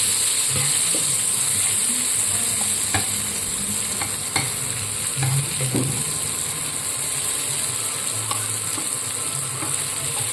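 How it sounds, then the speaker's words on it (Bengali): Steady, close sizzling of onions frying in a pan on an induction cooktop, with occasional stirring clicks and scrapes over a constant hiss. "এটা একটু সুন্দর করে লাল করে ভাজা করে নেব।"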